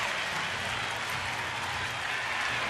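A baseball crowd at a Phillies–Nationals game roars and applauds after a leadoff double, a broad steady wall of cheering and clapping from the stands that rings out alone.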